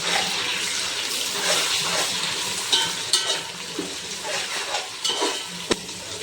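Tomatoes frying in a pan for chicken biryani, a crackling sizzle broken by repeated scraping stirs and sharp spatula knocks against the pan, no talking.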